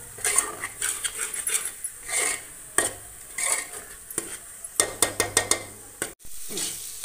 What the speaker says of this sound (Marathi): आता हे छान पद्धतीने मस्त परतवून घेणार आहोत.